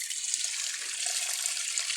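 Spring water at Korytnica runs steadily from a spring outlet as a bottle is filled, a close, continuous hissing splash with no talk.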